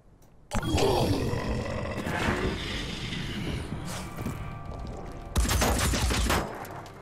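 Gunfire from the turn-based video game Phoenix Point: loud bursts of shooting with rumbling impacts and grunting creature sounds, a second sharp burst near the end, no talking.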